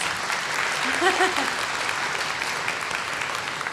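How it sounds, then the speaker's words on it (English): An audience at an art demonstration gives the team a short round of applause, with even, continuous clapping from a small crowd and a brief tonal sound partway through. "can we give a quick round of applause for the team?"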